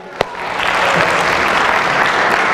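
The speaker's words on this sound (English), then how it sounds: "let's give Tim and his team another round of applause" A church congregation gives a music team a sustained round of applause, dense clapping that swells in quickly after a single sharp clap and carries on evenly to the end.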